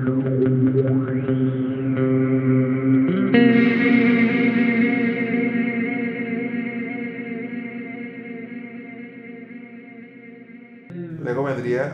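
An electric guitar played through an EarthQuaker Devices Transmisser reverb pedal rings out in long, shimmering, swelling sustained tones with warbling pitch bends and wide reverb tails, ending with a fresh bright swell.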